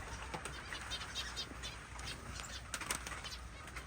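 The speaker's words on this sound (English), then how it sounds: "And here are the finches." Small finches, including double-barred owl finches, flutter their wings in quick bursts amid faint, scattered chirps, nearby and fairly quiet.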